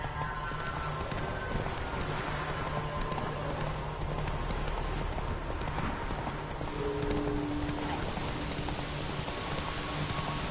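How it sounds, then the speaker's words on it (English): A horse galloping on a path in The Witcher 3 video game, with rapid rhythmic clip-clop hoofbeats running continuously, mixed with rain-like ambience and a brief tonal game sound partway through. "Run, Roach."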